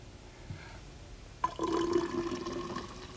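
Water poured into a container for a simple siphon demonstration, a quiet start followed by a steady splashing, filling pour lasting a couple of seconds, close and alone.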